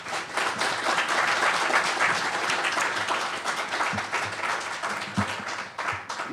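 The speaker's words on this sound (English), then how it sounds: "please, big round of applause." A conference audience at a security event claps in a sustained round of applause, dense and steady for several seconds with a few sharper claps standing out near the end.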